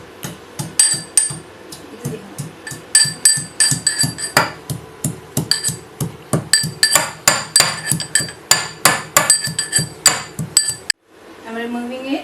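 Ginger, about an inch, coarsely pounded in a mortar: a steady run of sharp, loud thuds with metallic clinks, roughly two or three strikes per second for about eleven seconds, then an abrupt stop into quieter rustling.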